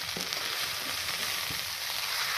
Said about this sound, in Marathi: आता साबुदाण्याचा कलर चेंज होईपर्यंत साबुदाणा आपण फ्राय करू देऊ